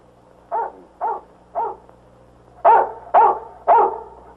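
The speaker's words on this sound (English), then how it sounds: "Well, then what's he barking about?" A dog barks six times in an evening setting, three moderate barks followed by three louder, closer ones at an even rhythm, with no talk.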